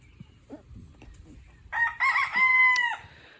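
A white crested Polish rooster crows loudly nearby, a long strained call in several bursts after a moment of faint background noise.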